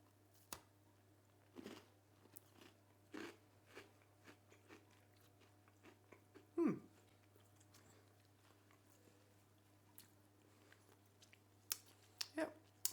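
Someone bites and chews a crunchy homemade gingerbread man, giving scattered sharp crunches and quieter chewing clicks at close range over a low steady hum.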